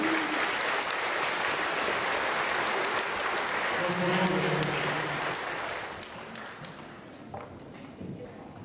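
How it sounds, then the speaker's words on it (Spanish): Applause from a church congregation at a Catholic Mass, a dense sustained wash of clapping that fades over several seconds, with voices audible toward the end. "Un fuerte aplauso para Gillo"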